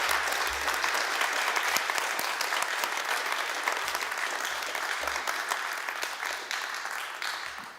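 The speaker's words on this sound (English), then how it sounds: "Let's give him a round of applause for today's Sunday Talk." An audience applauds a Sunday spiritual talk with steady, dense clapping that stays loud and even throughout, with no voices on top.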